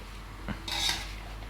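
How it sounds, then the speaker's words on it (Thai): Eel being stir-fried in a pan for a spicy Thai stir-fry: a quiet sizzle with one short scraping clatter of a spatula against metal. "ลวนให้มันสุก"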